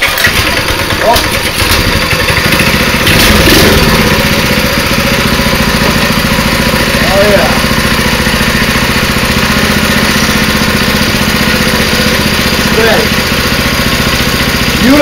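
A freshly finished stunt motorcycle engine runs after being started with the choke on, idling loudly and steadily up close with a rough, throbbing note while people talk over it.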